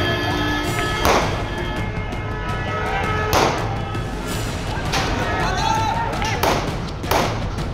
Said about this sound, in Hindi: हंगामे के बीच पुलिस की तरफ से हवाई फायरिंग की तस्वीरें भी सामने आई।